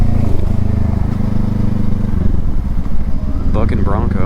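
Kawasaki Eliminator motorcycle engine rumbling steadily up close while riding over a rough, bumpy city street, with jolts and clatter as it hits bumps and a rider talking over it near the end.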